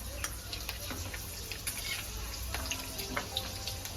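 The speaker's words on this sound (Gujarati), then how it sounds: "તેલ આવી ગયું છે એમાં લસણ નાખી દેશું થોડાક અજમા નાખી દઈશું થોડીક રાઈ નાખી દઈશું એમાં" Garlic, ajwain and mustard seeds fry in hot oil, a close, steady sizzle dotted with small pops and crackles.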